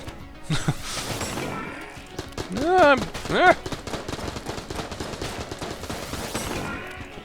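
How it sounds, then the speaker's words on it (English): A grenade blast and a burst of gunfire in a video game, loud and close, while a voice talks over the action. "Ah, grenade!"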